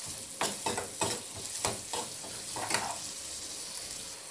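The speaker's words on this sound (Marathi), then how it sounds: "हा कांदा आपल्याला व्यवस्थित भाजून घ्यायचा आहे" Chopped onion fries in oil with a soft steady sizzle, broken by several sharp scraping stirs of a spatula against the pan at irregular intervals.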